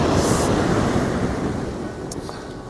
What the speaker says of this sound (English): it's crashing up and the waves are coming up here.